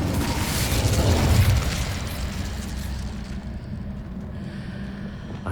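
Incendio fire spell cast in the Hogwarts Legacy video game: a loud, broad whooshing burst of flame that swells over the first second and a half, then settles into a lower rumbling crackle that fades while staying audible.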